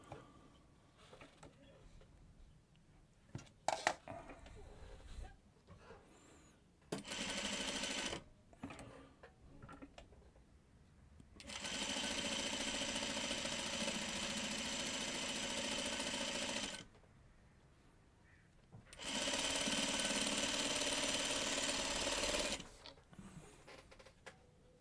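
A sewing machine stitches quilt fabric for a bed runner in bursts, a brief run followed by two long steady whirring passes, with quiet handling noises and pauses between them.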